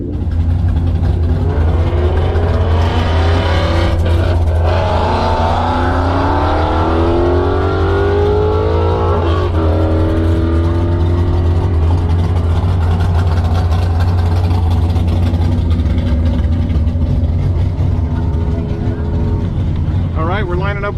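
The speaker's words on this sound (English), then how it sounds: "we're having a roll race grudge match against Barry and his Firebird" A Tesla Plaid and an alcohol-fuelled Firebird drag car roll race on a quarter-mile strip, with a loud, rising engine roar and sweeping gear-change whines over a heavy low drone, with voices talking over it.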